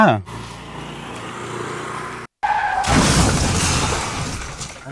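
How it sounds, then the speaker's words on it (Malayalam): A sudden loud crash of a motorbike toppling over, with a clattering impact and broadband noise, followed by excited voices nearby. "വണ്ടി വീണടാ ബൈക്ക് വീണു പോയി"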